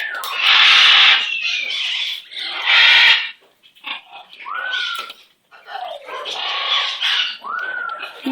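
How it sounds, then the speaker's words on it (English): A pet bird gives squawks and rising whistled calls, loud and close, alternating with harsh noisy bursts in an indoor setting, with no clear talking over them. "Look at that pretty bird."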